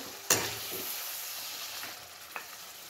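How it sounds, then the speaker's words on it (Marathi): Quiet sizzling of masala frying for a goat trotter curry, with a sharp scrape of a spoon stirring at the start and another light scrape later; no speech. "आणि असं चांगलं हलवायचं"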